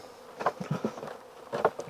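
Honeybees hum at an open hive during an early spring inspection, a brief, close, wavering buzz that rises and falls, with no voices.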